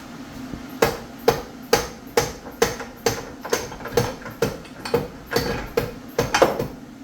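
A hammer taps on an NV3500 manual transmission case during a rebuild, about fifteen sharp evenly spaced metallic knocks roughly every half second, close and clear over a faint workshop hum.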